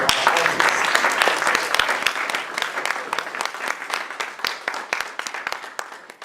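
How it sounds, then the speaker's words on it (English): A live hip hop theatre audience breaks into loud, dense applause for the performers, many hands clapping close together at first, then gradually thinning into scattered individual claps as it fades. "can we have a round of applause,"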